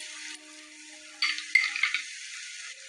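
Tangy yogurt stirred and fried into a spice masala for a soybean curry, a soft steady sizzle with brief scraping bursts of stirring in the middle, close and fairly quiet, no voices.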